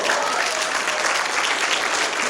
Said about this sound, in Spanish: Aplaudan de verdad, ¿eh?